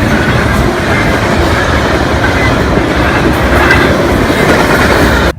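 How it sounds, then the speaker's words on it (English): A train rolls past on tracks in rural Nebraska or Colorado countryside, with a steady, loud, continuous rumble of railcars and rhythmic clickety-clack of wheels, slight squeal, with no talking. "For example, there was a train."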